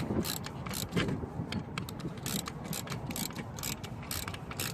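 A ratchet clicks in quick bursts while tightening an alternator bolt on a Toyota Corolla, the rapid pawl ticks close and fairly faint over some background mechanical noise.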